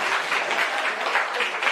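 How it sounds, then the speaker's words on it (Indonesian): Steady applause from a classroom audience, brief and fairly even, with no voices over it. "Oke, tepuk tangan buat Kakak."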